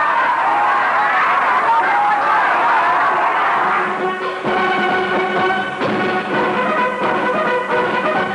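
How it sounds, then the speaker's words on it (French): A dense, enthusiastic crowd in Cambodia jostles and applauds during Charles de Gaulle's state visit, making a loud, continuous roar. Tonal sounds rise over the noise in the second half. "La foule est toujours aussi dense, aussi enthousiaste, et se bouscule pour voir et applaudir l'hôte de la nation"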